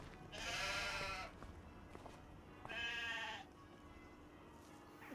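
Two sheep bleats in the Farming Simulator video game, each a drawn-out, wavering call lasting about a second, separated by a short pause over a quiet background.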